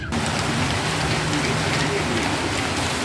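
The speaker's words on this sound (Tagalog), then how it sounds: "umulan na. Maulan na, maulan. Maulan. Lah, lakas." Heavy rain pours down steadily, a loud, dense, unbroken hiss close at hand.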